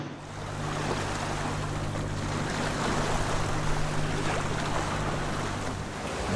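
Sailing yacht under sail with engines off, running at about six knots on open ocean between Fiji and Tuvalu, a steady close rush of water and wind along the hull, with no talk.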